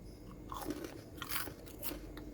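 Crunchy fried cireng, a crisp-skinned Indonesian tapioca snack, bitten and chewed up close, giving a few sharp crackling crunches spaced about half a second apart over quiet background.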